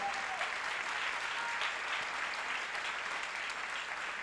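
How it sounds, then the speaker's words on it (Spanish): Steady, dense applause from a large congregation at a Catholic religious gathering, sustained and even throughout with no break, honoring the mercy of God. "Un aplauso a la misericordia de Dios."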